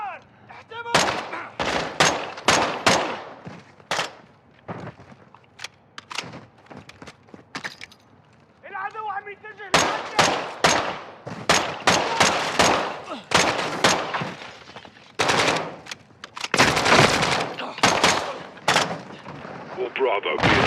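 Gunfire in Call of Duty: Modern Warfare II played on PS5, dense loud volleys of rifle and machine-gun shots with heavy booming blasts, coming in rapid clusters with short pauses, with a few voices shouting over the combat.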